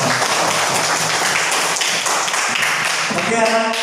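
A group of schoolchildren in a classroom lesson claps together in a lively burst of applause, fast and continuous, with voices mixed in near the end.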